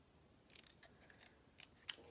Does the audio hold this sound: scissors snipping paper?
yes